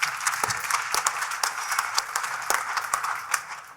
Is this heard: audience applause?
yes